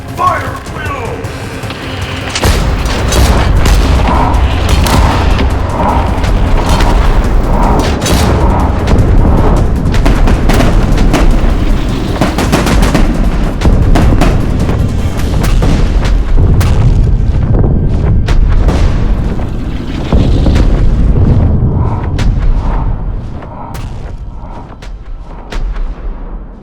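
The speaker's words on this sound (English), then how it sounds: "Deploy portside cannons!" Cannon fire from a skyship's portside guns in a dragon battle scene, a rapid series of booming blasts and thuds over roughly twenty seconds, loud and dense, with a voice heard over parts of it.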